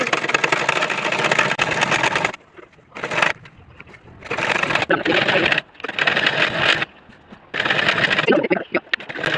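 A sewing machine stitching fabric in a straight line, loud close bursts of rapid mechanical whirring that start and stop several times with short pauses between, while someone talks over it.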